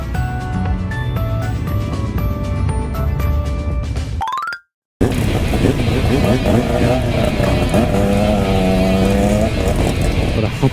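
A group of GT sports cars and motorcycles drives past, engines revving loudly and roaring near, with a brief cut of silence midway before more engine noise; people talk over it.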